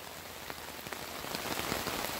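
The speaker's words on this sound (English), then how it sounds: "It's been raining for 3 straight flipping days." Steady heavy rain pours down during a flash flood, a dense hiss with scattered drops pattering on nearby surfaces.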